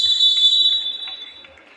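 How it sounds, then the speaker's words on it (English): End-of-half buzzer at a boys under-19 youth futsal championship final: a loud, sustained electronic tone sounds once, then trails off, with faint crowd noise and commentary talk beneath. "They'll be happy to hear the buzzer go"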